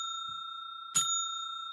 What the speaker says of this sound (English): And there goes our second bell.